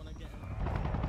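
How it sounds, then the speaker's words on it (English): Helicopter in the Arma Reforger game passing overhead, a steady low rotor rumble that swells slightly as it nears, with players talking over it. "Wait, that's a helicopter."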